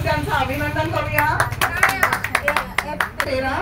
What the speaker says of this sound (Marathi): आपण टाळ्या वाजवून त्यांचं अभिनंदन करूया